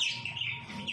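Pet birds kept at home chirp softly in a brief burst of high, wavering tweets with no voices.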